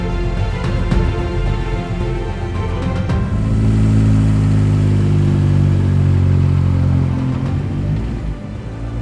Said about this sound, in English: The vehicle that we are currently driving here now is it's a South African built Ford Sapphire Cosworth